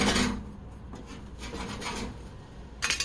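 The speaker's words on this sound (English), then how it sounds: "You know, I'm scraping." Residue being scraped off a part of an EZGO TXT/Medalist golf cart during restoration: close, continuous raspy scraping strokes, fairly loud, with a sharper burst of scraping near the end and no talking.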